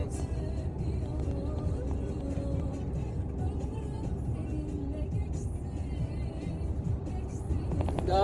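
A Mercedes truck drives along with a steady low engine drone and road rumble heard from inside the cab, constant and fairly loud, with no talking.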